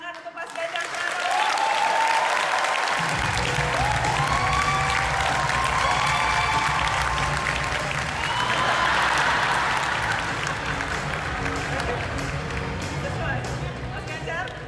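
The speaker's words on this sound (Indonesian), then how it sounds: "Tepuk tangan untuk Mas Ganjar Pranowo." A large audience breaks into loud, sustained applause, with cheers and scattered voices rising over the clapping before it slowly eases.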